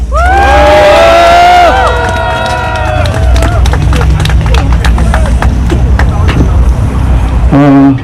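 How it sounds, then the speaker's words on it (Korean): A loud outdoor crowd at a political rally cheers and shouts on a cold day, with voices and whistles over a dense roar that becomes clapping and scattered hollering. "여러분들 한번 뜨거운 박수 부탁드리겠습니다."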